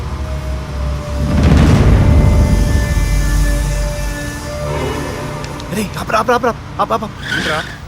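A car drives past in a Telugu comedy film scene, its low engine rumble swelling loudly and then fading, followed by brief voices and sharp sound effects near the end.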